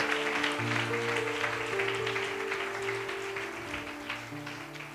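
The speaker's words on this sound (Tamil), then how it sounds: "பிதாவானவருக்காக ஒரு கைத்தட்டு" Applause from a church congregation fills the room, dense overlapping clapping that holds steady and slowly eases off, over a held musical tone.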